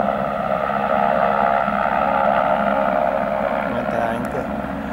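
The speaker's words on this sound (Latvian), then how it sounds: "Filmēsim, kā nokrīt helikopters." A helicopter flies and lands nearby in Norway near Trolltunga, a loud steady rotor and engine drone that fills the whole stretch.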